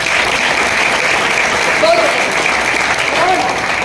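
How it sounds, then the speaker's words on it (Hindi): An audience at a plan presentation breaks into loud, sustained applause, a dense continuous clatter of many hands, with voices briefly rising over it. "एक जोरदार ताली हो जाए"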